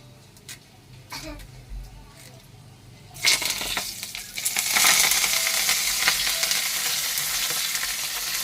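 Curry leaves dropped into hot oil in which cashews were just fried burst into a loud, dense, continuous sizzle that holds steady to the end, close up; a voice talks faintly just before.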